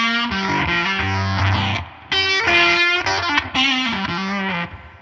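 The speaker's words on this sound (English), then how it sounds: "You can use mode 3 like a distortion pedal too." Boss RT-2 rotary ensemble pedal in mode 3 giving a distorted guitar tone: loud, gritty chords and sustained notes ring out, briefly dipping around two seconds before resuming, with no voices.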